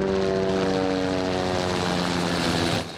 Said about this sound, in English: The last chance is a huge helicopter search of the snowy mountains.